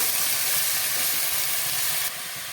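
Steady, loud sizzling of steamed cabbage frying in hot oil with green chillies and five-spice, a continuous crackling hiss that drops slightly in level near the end.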